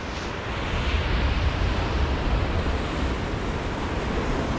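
Steady broadband wash of ocean surf on a beach along a fat-bike riding trail, loud and continuous with a slight swell after the first second, mixed with wind rumble on the microphone and no voices.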